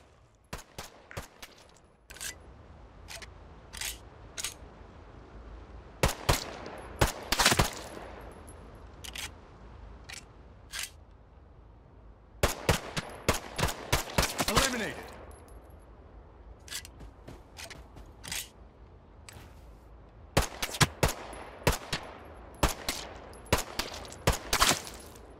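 P8 pistol firing in the shooter game Caliber, sharp single shots in irregular bursts and clusters, loud and close, with quieter gaps of ambient noise between volleys.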